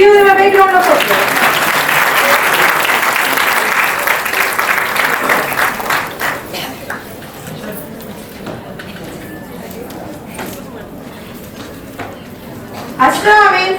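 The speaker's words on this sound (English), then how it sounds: "Please give them a big round of applause" Someone speaks briefly, then loud applause from a crowd swells and slowly fades out before his voice returns at the end.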